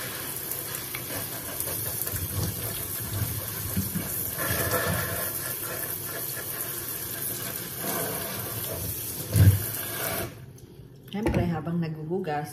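A kitchen tap pours steadily while dishes are washed on a rainy day, a continuous close rush under a speaking voice, cutting off near the end into a few clatters.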